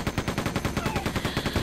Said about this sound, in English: I'm pumping bullets into her point blank